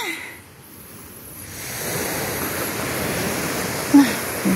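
Sea waves wash onto the beach at Botolan, Zambales, a steady broad rushing surf that swells from quiet to a full, continuous roar, with a couple of brief knocks near the end.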